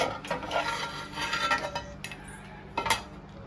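Utensil scraping and clinking in a pot while prawn egg curry is stirred, a run of close metallic scrapes and clatters with a couple of sharper knocks near the end.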